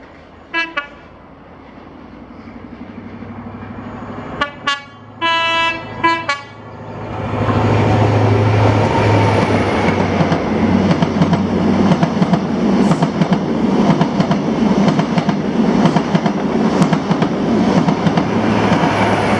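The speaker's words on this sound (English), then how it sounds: "this is 1W96, the 1840 London North Eastern Railway service to Inverness from London" A London North Eastern Railway service from London King's Cross to Inverness approaches Blair Atholl, sounding a few short horn blasts before its loud, close rumble and rhythmic wheel clatter roll steadily past.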